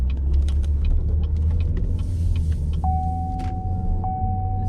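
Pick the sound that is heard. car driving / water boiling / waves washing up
car driving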